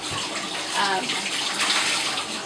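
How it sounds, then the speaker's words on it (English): Cloth diapers are rinsed under running water in a bathtub, giving a steady close splashing gush that runs throughout the short stretch. "I would rinse them until I would feel cold water running through the diapers"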